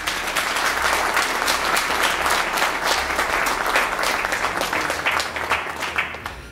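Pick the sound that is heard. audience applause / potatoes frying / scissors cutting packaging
audience applause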